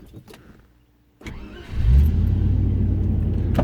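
A 1993 Range Rover Classic engine cranks briefly after a moment of quiet, catches and settles into a steady, close idle, heard alone.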